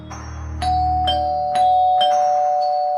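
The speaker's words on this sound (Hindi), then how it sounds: "रॉड गुल्ली बुल्ली का डोरबेल बजाता है।" A doorbell chimes repeatedly, four or five bright ding tones in a steady rhythm, each ringing out over a low background hum.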